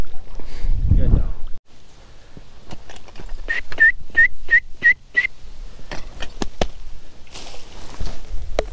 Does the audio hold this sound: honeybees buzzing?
no